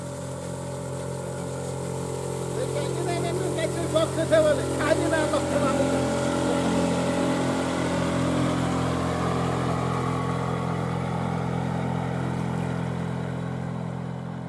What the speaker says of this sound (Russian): И моторка идет.